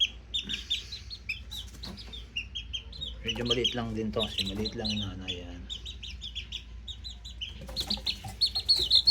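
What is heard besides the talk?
chickens clucking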